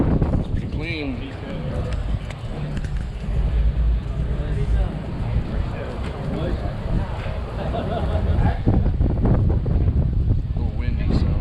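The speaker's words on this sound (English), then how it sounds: "A little windy" Wind gusts roar across the microphone at an outdoor car show, a continuous rough, buffeting rumble that grows stronger toward the end, with voices talking underneath.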